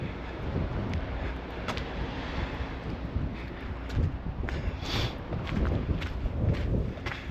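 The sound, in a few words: wind blowing on a shore path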